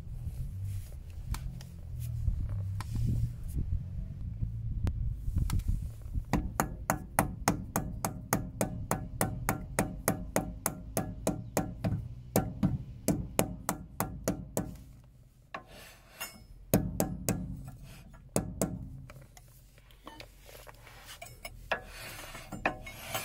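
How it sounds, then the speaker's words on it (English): A grease-filled dust cap is tapped onto a Volvo 240 wheel hub with a long run of rapid, evenly spaced metallic knocks, followed by a few scattered heavier taps nearby. "take your dust cap that's filled with grease and install it"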